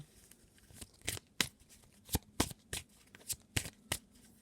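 A deck of Lenormand oracle cards is cut and shuffled, giving a run of about ten crisp, close riffling and slapping card sounds at an irregular rhythm, with no talk.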